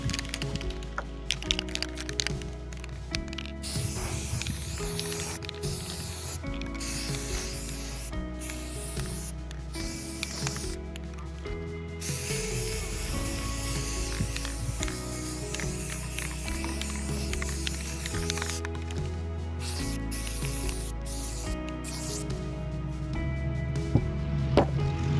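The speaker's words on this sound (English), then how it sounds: "Used flat black exterior spray paint and painted it." Flat black exterior spray paint sprayed onto a marbled pot: hissing aerosol bursts and rattly crackles, some short, some sustained, at moderate volume, no talking.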